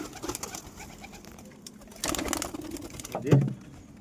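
Young Rampuri pigeons coo softly while pecking at grit, with scattered scratchy pecking and shuffling sounds and a brief louder coo near the end.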